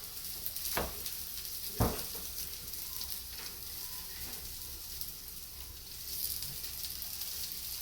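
Meat sizzles in a hot pan just after being flipped: a steady frying hiss with a couple of sharp pops early on, then an even crackle throughout, with no talking.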